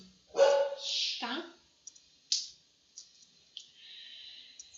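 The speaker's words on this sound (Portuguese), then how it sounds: "os vídeos aqui em casa, infelizmente, tem participações especiais de cachorros latindo" Dogs bark indoors at home, a few sharp nearby barks with brief yips and clicks breaking through, while a person talks briefly at the start.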